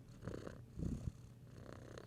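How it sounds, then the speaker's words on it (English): Male cat purring close to the microphone, a soft, steady rumbling purr with rhythmic pulses of breath, continuous for about two seconds with no talking. "Do you hear him purring?"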